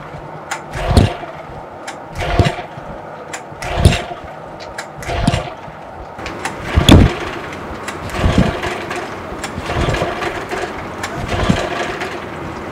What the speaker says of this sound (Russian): Мы запускаем так, отключив подачу топлива.